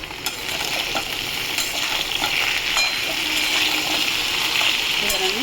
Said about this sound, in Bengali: আমি তো নেড়ে চেড়ে দিই